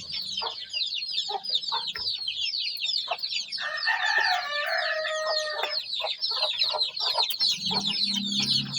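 A mother hen with her ten newly hatched chicks, raised at home, clucks while the chicks keep up a dense, continuous high peeping close by, with a steadier stretch of calls in the middle and no talking.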